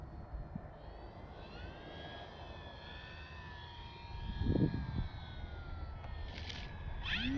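An Arrows RC Bigfoot model airplane drones steadily overhead during its landing approach, the motor whine holding at a moderate distance and swelling briefly louder partway through, with no voices.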